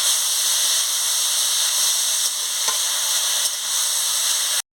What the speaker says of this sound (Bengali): থোড়গুলো দিয়ে ভালো করে নাড়িয়ে নিচ্ছি।